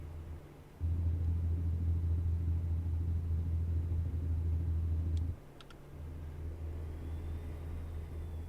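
A heavy haul truck with huge tires in American Truck Simulator, Alberta, throttles up: a deep, loud engine drone kicks in, holds steady for several seconds, drops off briefly, then resumes at a lower level.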